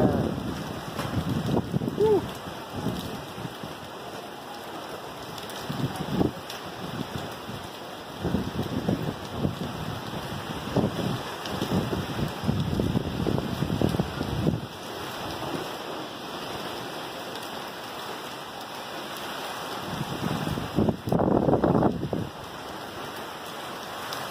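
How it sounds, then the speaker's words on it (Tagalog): Gusts of strong typhoon wind from Ulysses sweep through Angeles City, Pampanga, Philippines, a rushing roar that swells and eases in repeated bursts with no voices. "bumira na naman yung hangin guys"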